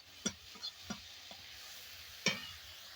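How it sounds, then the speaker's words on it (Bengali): Prawns fry in oil in a pan with a quiet, even sizzle, punctuated by a handful of isolated metallic taps from a utensil, with no voices. "এখানে আমার চিংড়িগুলো ভাজা হয়ে গেছে"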